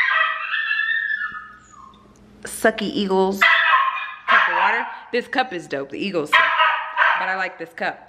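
A dog barks in sharp, loud, repeated yips and barks, close by, mixed with a person talking.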